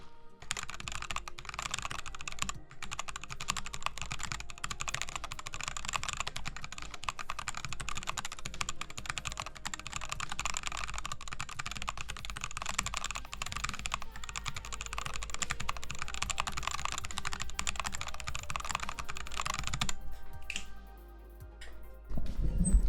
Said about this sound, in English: What keyboard are you using right now? I have a Dactyl Maniform.